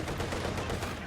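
A sharp burst of gunfire cracks out in a war video game, loud and close with a dense rattling quality over a short moment.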